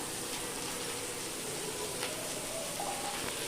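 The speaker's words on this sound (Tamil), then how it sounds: "இப்போ இது நல்லா வதக்கிக்கிறோம்." Chopped onions with fennel seeds and a little salt sauté in a pan for a Tamil prawn thokku, giving a soft, steady sizzle and crackle that runs evenly throughout.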